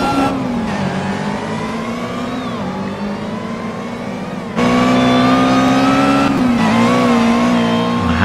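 Loud supercharged engine of an Ariel Atom 300 Supercharged in Project Cars at Azure Coast, a steady high revving drone with gear-shift dips and a sudden jump in pitch and volume midway.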